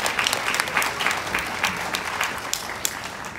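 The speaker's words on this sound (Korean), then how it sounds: "우리 두 사람에게 다시 한번 박수를 부탁드리겠습니다" Wedding guests applaud the newlyweds right after the marriage is declared, a steady, dense clapping from a sizeable hall crowd throughout, fairly close and with no talk over it.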